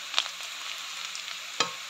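Onions frying until brown for pork liver apritada, a steady low sizzle with two sharp spatula clacks, one at the start and one near the end.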